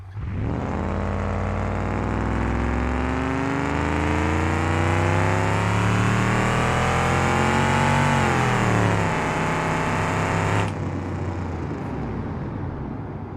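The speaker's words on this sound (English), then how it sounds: "now I can hear the engine sounds a little bit rougher sounding when it's idling" A rough, throaty video game car engine without a muffler, in BeamNG.drive, drones continuously, its pitch slowly rising and then dipping, loud and close with no voices.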